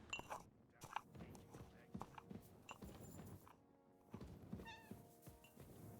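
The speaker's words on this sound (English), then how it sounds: "There's a kitty in here." A cat meows in a medieval role-playing game, several short mews scattered over soft footsteps and thumps, faint and fairly close.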